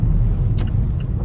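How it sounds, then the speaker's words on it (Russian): A car not yet warmed up hums along asphalt on studded tires, a loud, close, steady low rumble with a faint brief hiss in the middle. "Машина гудит на шипах по асфальту."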